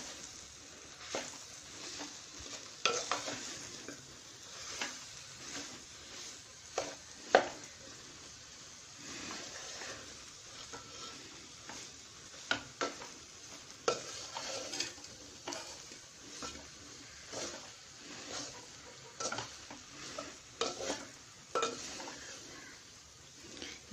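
Boiled tapioca being mixed with fried egg masala in a pan, repeated scraping and clanking of a metal spoon against the pan in irregular bursts, with a soft sizzle between strokes, no talking.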